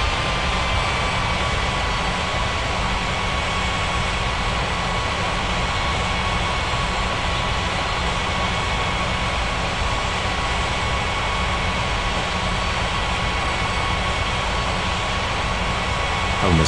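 Steady, continuous jet engine roar from an airliner taking off in the air traffic control game Unmatched Air Traffic Control, a loud even rumble with a faint high whine that holds without a break and has no voices over it.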